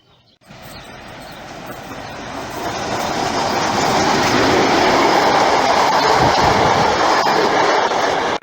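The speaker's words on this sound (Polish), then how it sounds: "Z Polanicy Zdrój nadjeżdża pociąg tanich linii kolejowych TLK Kormoran" A TLK passenger train rumbles into a station close and loud, its roar building steadily and then holding, with rolling wheel noise and a rushing, hissing wash.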